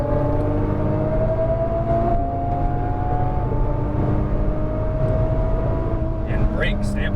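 A Nissan GTR engine pulls hard on throttle, a loud, steady drone with a rising whine sustained throughout, while someone talks over it.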